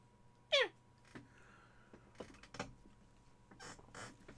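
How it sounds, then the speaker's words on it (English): A white house cat lets out one short, clear meow, followed by faint creaks and small rustles in a quiet room. "Want to say meow?"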